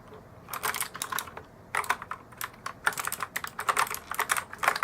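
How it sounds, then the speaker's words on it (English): Rapid bursts of clacking keys on a Rottay 104-key RGB mechanical keyboard, several keys struck at once in uneven clusters, close and fairly loud, with short pauses between flurries. "you can hit a bunch of keys at once"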